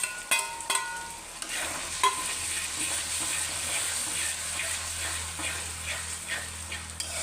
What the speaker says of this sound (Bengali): তো এইটাও আমি এর মধ্যে মিক্স করে দিলাম